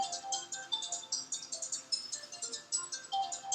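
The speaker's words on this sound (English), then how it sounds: "That's my phone." A mobile phone ringing indoors: a short, bright, repeating electronic ringtone melody with quick pulsing notes, fairly faint and heard on its own.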